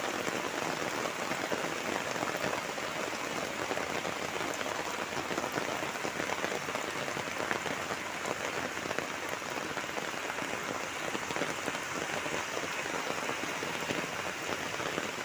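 Heavy rain pours steadily onto a village road, a dense, even hiss of drops hitting the wet surface close by, unbroken and loud throughout with no voices.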